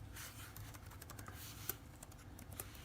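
Typing on a computer keyboard while designing the chassis for a 1958 Willys Ultra4 build, a quiet run of close, irregular key clicks with a few sharper taps.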